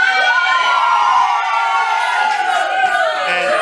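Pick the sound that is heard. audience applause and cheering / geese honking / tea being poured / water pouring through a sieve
audience applause and cheering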